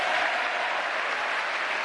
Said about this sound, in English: Resounding applause during the president's address to Congress following a successful end to the Gulf War